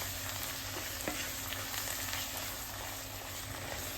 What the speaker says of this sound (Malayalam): ഇനി ഇത് നന്നായിട്ടൊന്ന് ഡ്രൈ ആവണ വരെ ഇളക്കിക്കൊണ്ടിരിക്കുക.